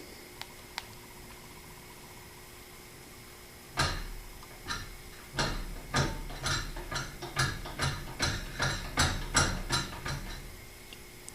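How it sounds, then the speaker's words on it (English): A Home Depot Big Air ICF96 ceiling fan motor slips and jiggles, starting with a sudden clunk followed by a series of irregular, quickening knocks and rattles of the shifting motor housing. "the whole motor housing shifts and jiggles like it's trying to engage and something's slipping"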